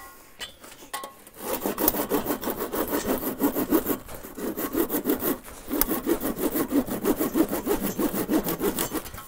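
A hand saw cuts a piece off a thin wooden slat, rapid rhythmic back-and-forth strokes, close and loud, with a brief pause midway before sawing resumes.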